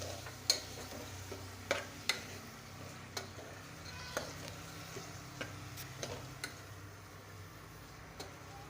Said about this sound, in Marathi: हिरवे मूग घालून आपण मस्त असे परतवून घेणार आहे